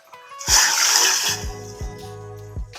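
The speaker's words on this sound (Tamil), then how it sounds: "அதுக்கு ஒரு 2 கிளாஸ் தண்ணி ஊற்றிக்கலாம்." Water is poured into a pot to start sago and vermicelli payasam, a broadband splash lasting about a second, then quieter trickles and small knocks.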